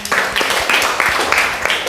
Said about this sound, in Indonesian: sahih, tepuk tangan.